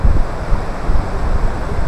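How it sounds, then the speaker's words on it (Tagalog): A strong, swollen river current rushes in a continuous, loud roar with no talking. "Yan o, lakas pati ng agos ng ilog."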